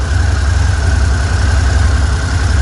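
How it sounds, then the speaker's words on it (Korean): A 650cc naked motorcycle engine idles loudly and close by in a steady, even low rumble with no pauses. "일단은 지금 시동을 좀 걸어놔야지."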